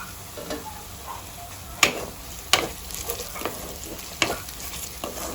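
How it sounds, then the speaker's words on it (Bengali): Garlic and ginger paste fries in a wok under a steady sizzle, while a spatula stirring it gives a few sharp scrapes and knocks. No one speaks. "আমাদেরকে নাড়াচাড়া করে ভেজে নিতে হবে, যাতে কড়াইয়ের মধ্যে লেগে না যায়"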